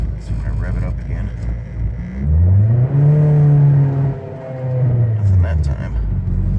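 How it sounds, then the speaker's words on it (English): A 2003 Ford Focus SVT with a charging system problem revs up in neutral, its engine note rising in a loud, close, climbing whine, easing off, then revving again, with some talk during the opening seconds. "So when I rev it up again."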